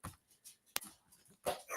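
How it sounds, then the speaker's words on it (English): Dogs whimper and let out short barks in a quiet indoor room, a few brief yips scattered through the stretch, one sharp close bark standing out near the middle. "So I have the dogs here. They're talking about their thing."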